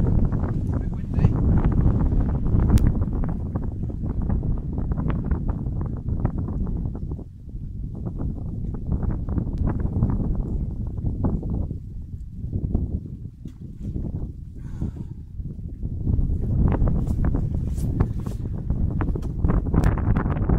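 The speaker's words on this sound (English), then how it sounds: "A bit windy." Gusty wind buffets the microphone in rough, rumbling bursts that rise and fall throughout, loud and close, with no clear talking.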